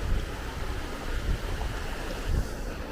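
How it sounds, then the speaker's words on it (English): Rushing water of Wright Creek on the Pacific Crest Trail, a broad steady roar of flowing water close by with some wind buffeting on the microphone. "Coming up to Wright Creek"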